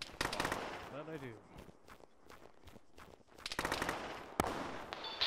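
Gunfire in the military video game Arma, played by the ShackTac group: scattered sharp shots and rapid bursts of various loudness, with voices talking over and between the bursts.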